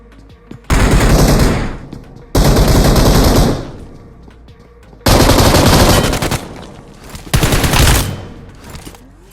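Loud, close automatic gunfire from a BGMI PUBG Mobile shootout comes in four sustained bursts separated by short quiet gaps.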